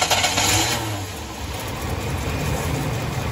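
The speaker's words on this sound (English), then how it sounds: "Go ahead and start it up, Fernando, and I'm gonna observe the spark." A car engine starts and runs during a misfire test on cylinder five, a close, rough mechanical rumble that settles into a steady idle without distinct revving.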